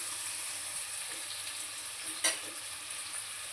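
Chicken curry frying in oil in a pot, a steady close hiss of sizzling with one brief louder stir or clink midway and no voices.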